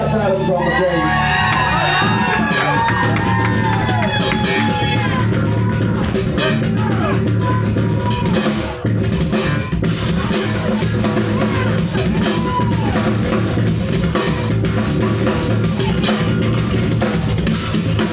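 A live concert crowd at a band's farewell show cheering, whooping and shouting for the bass player, loud and continuous, with shouts layered over the roar and the noise swelling again partway through.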